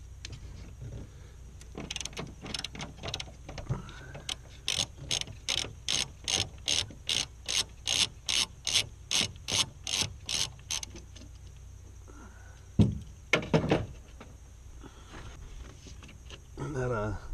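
A ratchet loosens the battery hold-down screw on a 2014-or-later Chevrolet Silverado, clicking in a steady run of sharp, evenly spaced ticks, then pausing before a few louder clunks and a brief final burst.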